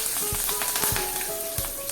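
Curry leaves crackle and sizzle in hot oil, with sharp pops over a continuous close frying hiss.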